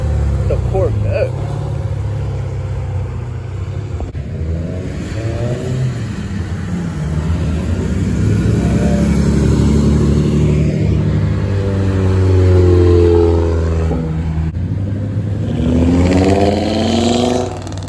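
Corvette sports car engine revving up and holding a steady note at a car meet, loud and close, with people chatting in the background throughout.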